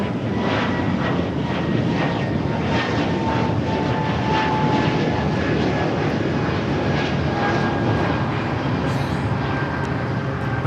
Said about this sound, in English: Breeze Airways 535 taking off to Richmond, Virginia on the A220-300